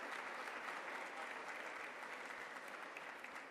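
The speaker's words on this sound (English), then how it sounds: "Please give a big round of applause to him." An audience at a university law summit gives steady, dense applause, a continuous roomful of clapping that holds evenly for a few seconds.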